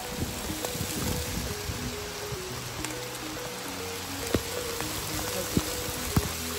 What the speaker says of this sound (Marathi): पाऊस चालू झाला आता.